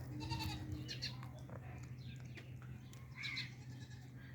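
Young goat kids bleat in short, high calls while at play, several cries coming close together over a steady low hum, with no talking.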